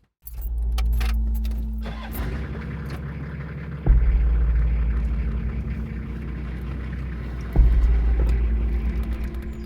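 A car with total brake failure creeps slowly along a busy road on Spain's Atlantic coast with its hazard lights on. A steady low engine rumble and hum fill the cabin, with two sharp thumps partway through.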